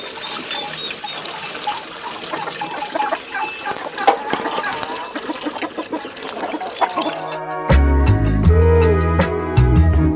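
Chickens on a village farm cluck amid busy yard noise, then a steadier tonal sound takes over for the last few seconds.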